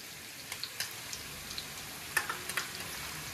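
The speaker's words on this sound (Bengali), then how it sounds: "এবারে এই আলুর মধ্যে দিয়ে দিচ্ছি আদা রসুন বাটা" Ginger-garlic paste dropped into potatoes frying in a pan for Bengali aloo dum: soft crackling and sizzling with scattered sharp pops and a few louder spatters, close and fairly quiet.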